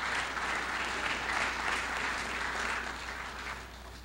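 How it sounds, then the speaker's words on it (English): Steady applause from a gathered congregation at a mosque service honoring student ministers, continuous dense clapping throughout, fading slightly toward the end. "Let's give them all a round of applause for the wonderful words that they have to say."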